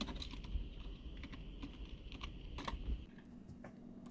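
Typing on a Renewgoo GooGamer pseudo-mechanical gaming keyboard produces quiet, soft keystrokes in an irregular run over a low background hum, muffled and fairly faint rather than clicky.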